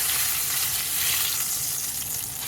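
Food fries in a pan just after being flipped, giving a loud, even, close sizzle that hisses on without a break for a few seconds.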